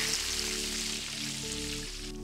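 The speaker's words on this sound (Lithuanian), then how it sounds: "kepam antrą partiją" A second batch of potato balls deep-frying in oil in a kazan outdoors: a dense, steady crackling sizzle that stays loud and even throughout, with a faint low hum underneath.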